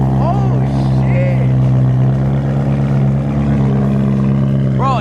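A BMW E92 M3 with a loud aftermarket exhaust idles and rumbles heavily up close, a deep steady drone with slight rises, while people talk over it.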